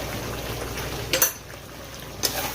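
A spice paste with ground cumin, coriander and salt fries in a pan for an egg curry, a soft continuous sizzle with two sharp spoon scrapes against the pan.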